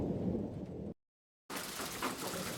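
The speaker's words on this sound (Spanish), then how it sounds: "En nuestro pueblo nadie sale a la calle durante una tormenta." Thunderstorm sound effect with dense, steady rain hiss and a low rumble of thunder, cutting briefly to silence mid-way before the downpour resumes, loud and enveloping with no voices.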